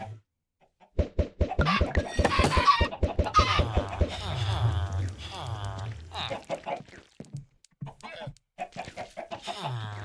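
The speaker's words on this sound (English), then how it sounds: "There we go, more chickens." Minecraft Skyblock chickens give quick rhythmic clucks in a brisk burst, followed by a looser string of clucks with a voice talking over them.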